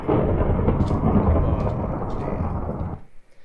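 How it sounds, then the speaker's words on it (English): Steady rumbling thunderstorm with rain from a storms mod in Minecraft 1.12.2, an ocean-based storm, loud and continuous before cutting off sharply near the end. "Ocean-based storm."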